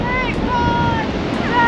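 Strong wind blasting across a Cornwall beach and buffeting the microphone in a loud, roaring rush, with surf beneath and a faint voice briefly audible.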